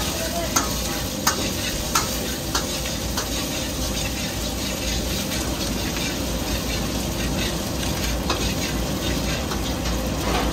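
Manchurian frying with ginger and garlic in a busy commercial kitchen, a steady loud sizzle with scraping stirs and occasional sharp metal clanks throughout, with faint background voices.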